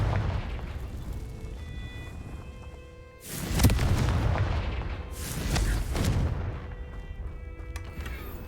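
Confringo fire spell blasts in Hogwarts Legacy, with two heavy booming explosions over a steady low game rumble and ambient hum, each burst rolling out before fading.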